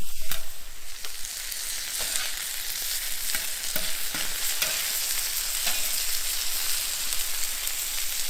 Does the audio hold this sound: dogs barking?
no